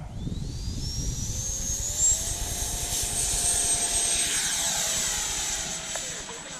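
An FMS 80mm F-22 electric ducted-fan RC jet on high-voltage packs takes off, its steady whine rising in pitch as it climbs and passes, heard from fairly close outdoors.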